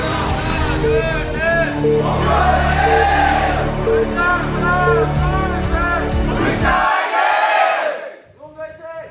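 A large crowd roars and cheers loudly for several seconds, with rhythmic chanting, before the noise cuts off abruptly into quieter voices.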